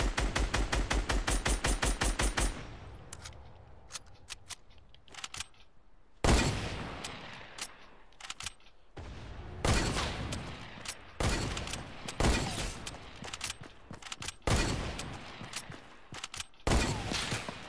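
Hunting rifle shots in Fortnite ring out as several sharp, loud separate cracks spaced a second or two apart, following a quick rapid-fire string at the start.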